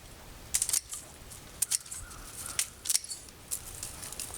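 Garden pruners snipping spent okra plants in a winter garden for cut-and-drop mulching, several sharp close clicks in irregular pairs over faint outdoor ambience.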